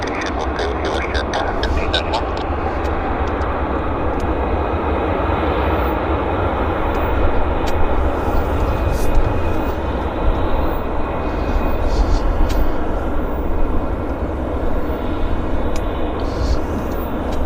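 A jet airliner, flight 1599 from Atlanta, at Vancouver airport, a loud, steady broadband engine roar filling the whole stretch at close range.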